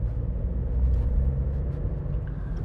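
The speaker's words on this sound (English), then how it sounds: "Off we go, the little 3-cylinder engine," Small 1.0-litre 3-cylinder engine of a 2019 SEAT Mii heard from inside while driving, a steady low rumbling drone with road noise and no talking.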